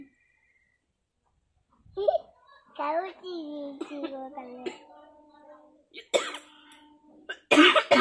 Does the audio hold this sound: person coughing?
yes